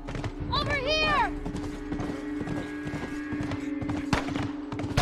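Hooves of a galloping horse in The Last of Us video game, a loud, close, rapid clip-clop rhythm that starts with a shrill whinny and keeps steadily pounding throughout, with voices talking over it.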